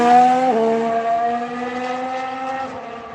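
A racing car at speed through turn 2, its engine holding a loud, steady high-revving tone with a brief dip in pitch near the start, heard close and alone.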